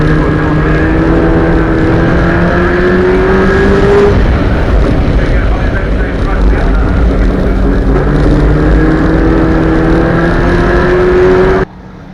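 Renault Clio prostock race car at speed on the oval at Crimond Raceway, a loud, steady engine drone with rising pitch as it accelerates, shifts and pulls again, other racing cars mixed in, cutting off abruptly at the end.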